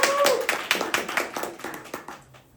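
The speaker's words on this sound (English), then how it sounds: "Round of applause." An audience gives a round of applause, a brief burst of many hands clapping at a steady patter that thins out and fades toward the end.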